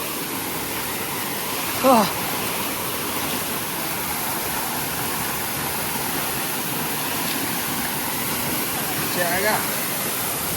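Bekare Waterfall pours with a steady, broadband roar that fills the whole stretch without a break, and a couple of brief, faint higher calls rise briefly above the rushing water.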